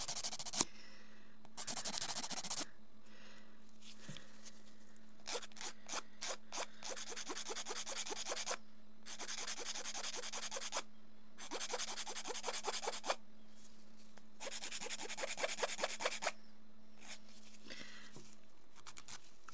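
An acrylic nail is filed in short rasping bursts of quick back-and-forth strokes, close and fairly quiet, with pauses between passes and no speech.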